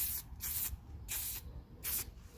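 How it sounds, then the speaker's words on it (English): Aerosol spray paint can hissing onto a sneaker outdoors in light wind, four short bursts with brief pauses between, close and fairly loud. "You have a stream, vertical stream from the spray can."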